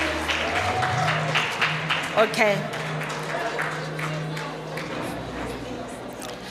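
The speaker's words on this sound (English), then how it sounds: "Ladies and gentlemen, let's applaud to them as they are taking a photo." An audience at a school awards ceremony applauds for a primary school group as they pose for a photo. The clapping is moderate and spread out under a speaker's voice and crowd chatter, and one person briefly speaks.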